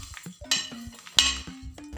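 A spoon stirring spices for achar gosht in a bowl: quick clinks and scrapes of metal against the dish, uneven in rhythm, with a couple of sharper knocks, close by and with no voices.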